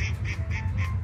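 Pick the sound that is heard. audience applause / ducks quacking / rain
ducks quacking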